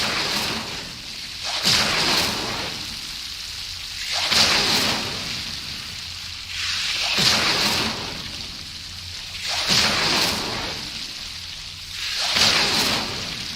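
Hogwarts Legacy's Incendio fire spell repeatedly bursts out in whooshing roars, five flaring blasts at a steady pace of roughly every two and a half seconds, each swelling loud and then fading into a low rumble.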